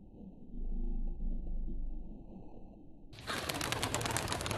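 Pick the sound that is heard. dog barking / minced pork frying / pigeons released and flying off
pigeons released and flying off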